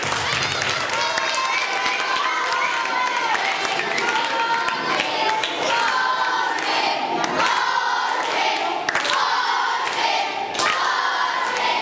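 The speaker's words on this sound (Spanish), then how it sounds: "Un aplauso para Jorge." School farewell-event audience applauding for director Jorge, dense continuous clapping with cheers and thumps mixed in throughout.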